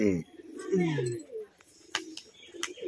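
A female pigeon with lightly clipped wings coos in soft, low, rolling calls at close range, mixed with a few brief sharper sounds and some background activity.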